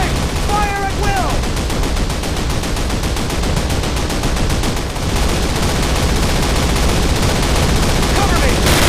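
Dense, continuous gunfire fills a Call of Duty battle, loud and close, with rapid machine-gun bursts, overlapping shots and a few brief shouts or voices underneath.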